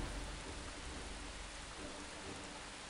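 Steady rain in the strategy game Earth 2150 hisses as a dense, even wash of noise with a low rumble underneath, constant and alone for a few seconds.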